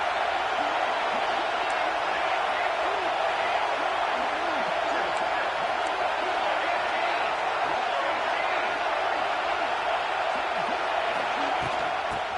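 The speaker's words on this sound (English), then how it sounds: "the crowd coming to life here, trying to help this defense down in the red zone" A large football stadium crowd at a Miami versus Clemson game roars in a steady, loud, sustained wash of cheering and noise as the defense holds in the red zone, with an announcer talking over it.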